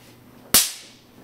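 A single sharp high-voltage electric zap, a 10,000-volt discharge in a haunted basement attraction, snapping loudly and fading quickly over a faint background hum.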